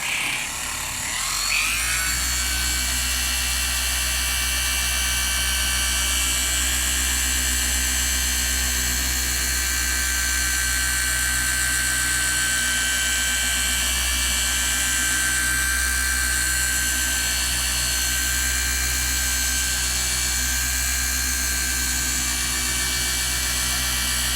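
A Flex PXE 80 polisher runs steadily on a car's paint during a one-step polish, a continuous high whine over a low motor hum that starts up and holds constant, close and loud without talk.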